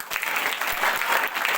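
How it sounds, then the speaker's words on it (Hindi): A classroom of children gives a loud burst of clapping for a child who has just been praised, a dense, even applause that holds steady throughout. "जोरदार तालियां."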